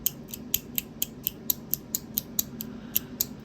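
Polished titanium dragon scale butterfly-style flipping tool clicking in a steady, evenly spaced rhythm, about fourteen crisp, bright metallic clicks over a soft background hum, close up, with no talking.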